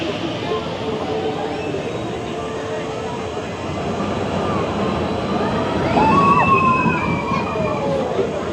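Water runs and splashes at a theme park water ride at Knott's Berry Farm, a continuous sloshing rush that swells slightly toward the end, with people talking over it.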